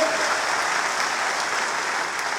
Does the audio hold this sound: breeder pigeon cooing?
no